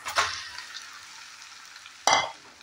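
Chowmein noodles are stirred and tossed in a pan with sauce and spices, giving a brief scraping burst near the start, a quiet faint sizzle through the middle, and a second louder stirring scrape near the end.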